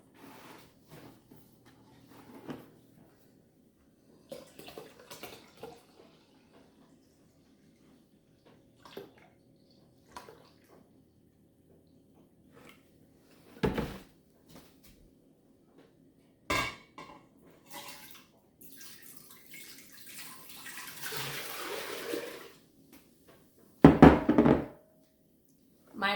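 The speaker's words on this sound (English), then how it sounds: "So I'm gonna go with 9 cups of vinegar and 9 cups of water." Vinegar and water pour into a container for pickling brine in a home kitchen, a splashing gush near the end among scattered clinks, knocks and thuds of pots and utensils, with long quiet gaps between them.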